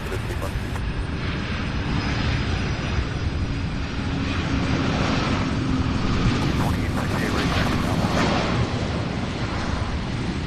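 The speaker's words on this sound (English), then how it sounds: "Look at that massive aircraft." A massive aircraft passes over the Louisville airport as a broad, steady jet roar that stays loud and fills the whole stretch, with a voice speaking faintly beneath it.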